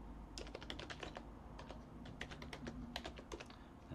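Computer keyboard typed in quick bursts while entering commands during an Arch Linux install, crisp clustered key clicks with brief pauses, close and quiet with no talk.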